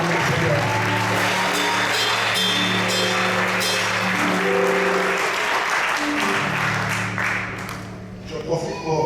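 A church congregation applauds and cheers at a seminary and ordination service, producing sustained loud clapping from a crowd that fills the room for about eight seconds before tapering off, with voices mixed in.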